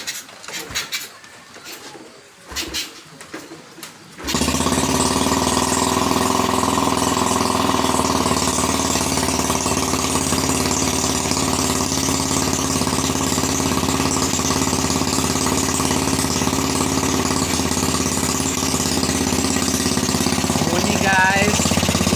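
Honda Revo Absolute motorcycle engine, set up for plantation harvest work, starts and settles into a steady loud idle with a rough, buzzy putter, close by; brief voices are heard before the engine catches.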